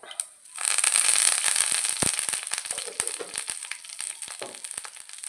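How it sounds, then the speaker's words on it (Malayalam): Mustard seeds, urad dal, a chilli and curry leaves hit hot oil for tempering, bursting into a loud close crackle and then settling into scattered sharp pops. "ഇതെല്ലാം കൂടി ഒന്ന് പൊട്ടി വരട്ടെ"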